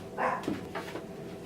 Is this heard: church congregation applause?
no